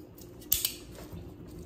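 A spoon stirs chicken in red tomato sauce in a pot, giving one sharp clink against the metal and then a fainter scrape, quiet and close, with no voices.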